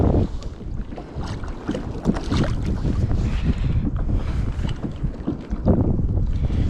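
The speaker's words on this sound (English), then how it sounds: "It's a bit more windy now than it was when I came out." Strong wind rushes and buffets the microphone while out kayak fishing at sea off East Lothian, with water slapping against the boat, a steady loud roar throughout.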